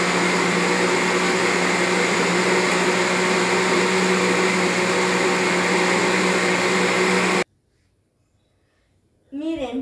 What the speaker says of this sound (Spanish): Y ahora lo vamos a licuar